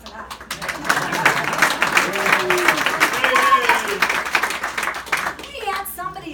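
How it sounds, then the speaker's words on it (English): An audience claps at a political campaign event, starting fairly thin, then swelling into steady applause with scattered cheers and voices under it, and dying down toward the end. "you can clap for that"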